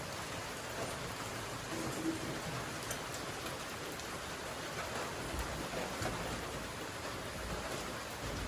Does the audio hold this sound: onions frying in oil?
no